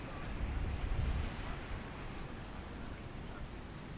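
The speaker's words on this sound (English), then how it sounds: "this is the main beach at Akumal Beach" Ocean waves rolling onto the main beach at Akumal Beach, Mexico, a steady broadband wash of surf mixed with wind, slightly louder in the first second and then continuous.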